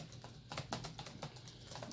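Quiet keystrokes patter in an irregular run on the slightly flexy keyboard of a Fujitsu Amilo Pro v2030 laptop, each click soft and close.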